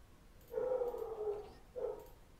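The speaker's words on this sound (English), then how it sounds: "Now my dog's barking, if you can hear that in the background." A dog lets out two drawn-out, muffled barks from another room, the first longer than the second, with no one talking.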